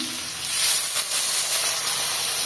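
Water hitting hot oil with fried pumpkin pieces in a village kitchen pan, a loud steady steamy hiss that swells slightly after the first half-second and holds through.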